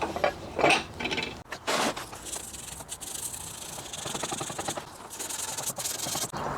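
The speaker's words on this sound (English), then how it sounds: "Now we're going to have to deburr." A hand tool deburrs the cut edge of a metal spare tire carrier plate, making close, continuous gritty scraping and rasping strokes with a few sharper scratchy accents near the start.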